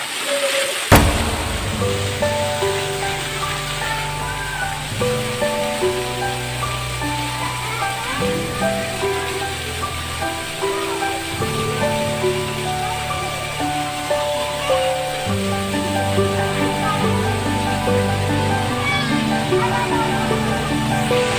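Water from a waterfall at a temple in Ubon Ratchathani rushes in a steady, dense roar throughout, with faint voices and other sounds mixed in underneath.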